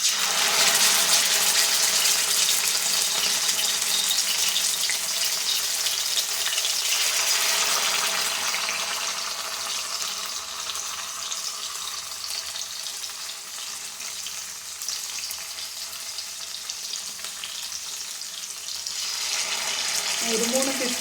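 Fish pieces, three at a time, fry in hot oil in a pan for a simple fish fry. A loud, dense sizzle crackles steadily throughout and eases slightly midway before swelling again.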